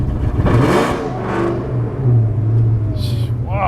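A Ford SVT Terminator Cobra's four-valve engine idles with a choppy, lumpy rhythm, a loud close rumble that swells and pulses steadily throughout.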